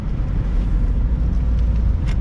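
Fiat 124 Spider, a 2,500-pound roadster with automatic transmission, driving along with a steady low engine and road rumble, wind buffeting the microphone throughout.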